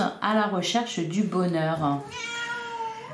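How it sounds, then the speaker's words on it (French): A pet cat meows with several drawn-out, pitched cries near the microphone, overlapping someone speaking French throughout. "Oui, ça c'est mon chat."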